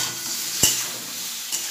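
Ground coriander and cumin fry in a hot pan with a soft, steady sizzle, broken by a single sharp knock of a spoon or spatula against the pan and a fainter scrape near the end.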